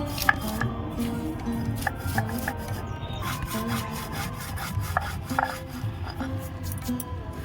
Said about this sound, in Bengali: এবার আমি এ চানা মশলার জন্য স্পেশাল মশলা ভেজেছিলাম সেইটা গুঁড়ো করে নেব